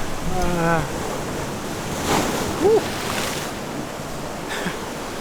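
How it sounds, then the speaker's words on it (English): Sea waves break against rocks on the Madeira coast in a continuous wash and roar with wind buffeting the microphone, and a few brief high tonal chirps come through above the surf. "the energy of the waves crashing on the rocks"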